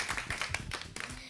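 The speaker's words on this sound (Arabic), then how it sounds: "يلا صفقوا له." An audience claps steadily for a ten-year-old boy on a children's stage show, a short burst of dense, even applause.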